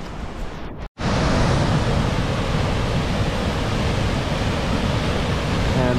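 Creek water cascading near Corlieu Falls in Yosemite, a dense, steady roaring rush heard close and loud, broken by a brief dropout near the start.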